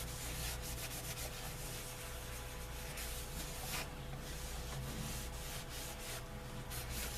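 A cloth wipes excess neatsfoot oil off leather, making a steady, close, continuous rubbing and scuffing with no pauses or talk.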